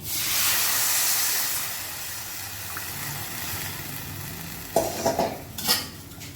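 Tamarind water for rasam hisses and sizzles as it hits a hot pan, loud at first then settling, followed by a few clinks of a utensil against metal.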